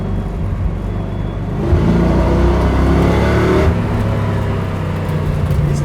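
A 1966 Ford Mustang engine roars steadily on a track day, loud and close from inside the car, with the revs surging and shifting as it drives hard through a corner.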